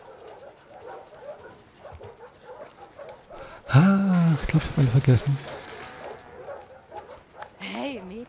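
A dog in The Last of Us Part II whimpers and yips in a loud, drawn-out burst midway, with softer whines later, while a character speaks nearby.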